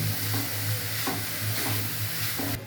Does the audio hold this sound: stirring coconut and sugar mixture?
yes